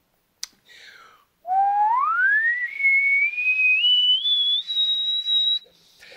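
A single human whistle glides upward from a low note into sustained high notes, loud and close, after a brief click and a short breathy sound.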